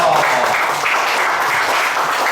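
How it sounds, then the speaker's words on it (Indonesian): An audience at a community organization event claps together, a steady, fairly loud wash of applause filling the short moment with no talking over it. "Oke, tepuk tangan dulu"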